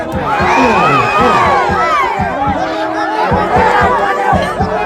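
A crowd at a Muay Thai fight cheers and shouts loudly and close by, with lively voices and chatter rising and falling in bursts over rhythmic background beats.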